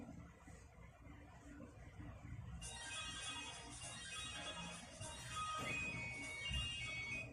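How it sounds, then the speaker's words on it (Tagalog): A phone alarm rings with a steady electronic tone that starts partway through and then carries on loud and continuous over a murmur of background voices and room noise. "Nag-alarm pa ako oh."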